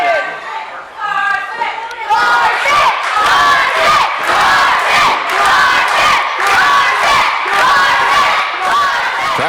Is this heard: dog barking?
no